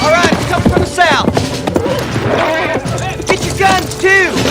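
Horses clip-clopping and whinnying at a frontier ranch ahead of an Indian raid, with repeated rising neighs over hoofbeats and shouting voices close by.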